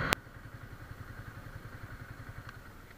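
A Yamaha R15 V3 motorcycle engine throbs at a steady, rapid pulse while being ridden, fairly quiet and close, with a sharp click at the start and no talking.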